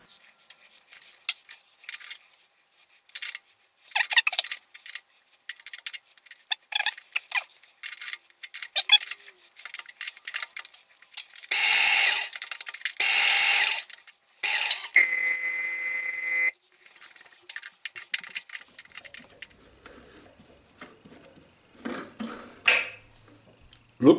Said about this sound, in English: Just installed the bolt the other way around in the vise and started to cut, and this is violent.